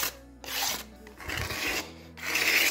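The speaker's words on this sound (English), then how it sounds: "the pickguard won't move while scraping" Hand scraper drawn across a guitar pickguard held flat against a bench hook, for an archtop Gibson ES-125 restoration: several long, steady rasping strokes separated by brief pauses, close and fairly loud with no talk.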